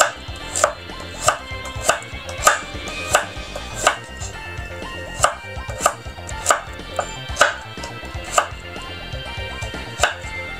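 A knife chops carrots on a cutting board, giving crisp, evenly spaced knocks about twice per second over a quiet background. No one talks.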